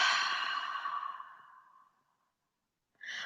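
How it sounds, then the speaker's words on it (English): A long, soft breath exhaled out through the mouth during a vinyasa yoga session, fading gradually, followed after a short silence by the start of another breath. "And exhale out through the mouth."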